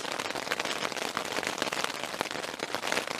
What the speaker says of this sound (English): Holy crap, that's hail!